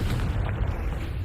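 Confringo spell blast in the Hogwarts Legacy video game, a dense, rumbling explosion that fills the moment with heavy low-end roar and crackle, loud and sustained without a break.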